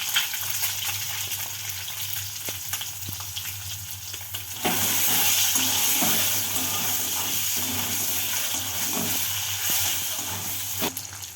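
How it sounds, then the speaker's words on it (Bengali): Boiled eggs fry in hot mustard oil with salt and turmeric in a kadai, a steady close sizzle with occasional stirring clicks that swells louder and denser about halfway through; no one speaks. "এতে আমি ডিমগুলো একটু ভেজে নেব নুন হলুদ দিয়ে।"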